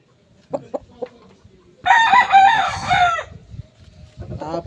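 A few soft clucks, then a loud rooster crow up close, followed by more clucking from derby-size gamecocks nearby.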